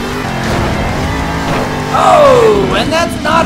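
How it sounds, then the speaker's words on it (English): The Max D Fire monster truck's engine roars steadily in the Monster Jam Steel Titans video game, louder in the second half with a rising whine and a tire-like squeal as the truck attempts a backflip. "Our next monster truck is Max D"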